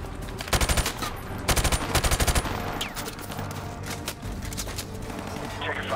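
Automatic gunfire in Call of Duty: Modern Warfare Remastered, with two loud rapid bursts early on followed by scattered shots and battle noise, all under voices talking.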